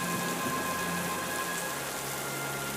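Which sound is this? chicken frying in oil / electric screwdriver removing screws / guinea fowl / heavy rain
heavy rain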